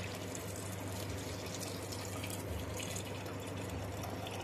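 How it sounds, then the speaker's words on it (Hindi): Water poured into a pot of peas for cooking, a steady close splashing and trickling rush that runs unbroken throughout. "अब हम पानी डालेंगे।"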